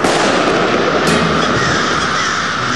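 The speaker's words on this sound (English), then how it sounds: "For 2 hours, the flock endures hundreds of explosions." Crows caw continuously amid a dense, loud crackle of explosions set off to scare them from urban roost trees, with a sharper bang near the middle; no pauses, the whole scene noisy and close.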